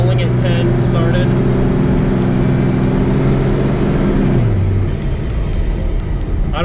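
A twin turbo Cummins truck launches from a rolling 10, its loud engine droning and climbing in pitch before dropping off, with a voice talking over it.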